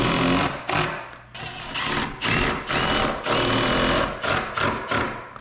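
Power drill driving screws into plywood for an attic hatch, a loud continuous motor whine in repeated bursts with brief pauses between screws, close by and without talk.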